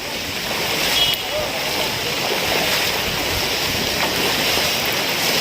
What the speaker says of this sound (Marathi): मुसळधार पावसामुळे चिपळूणमध्ये खूप वेगाने पाणी भरतं आहे